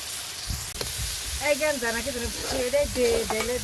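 Cumin paste hisses and sizzles as it hits fried onions in a pot for biryani, a steady frying hiss with a voice talking over it throughout.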